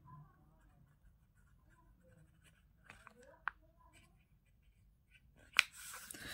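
A pen scratches on paper in a quiet room, with faint sparse strokes and a few small taps and clicks, the loudest near the end.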